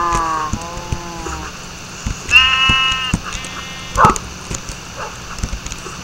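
Sheep bleat in a farming video game, with several wavering bleats in quick succession, plus a dog-like yelp and soft game clicks and footsteps, all fairly close and clear.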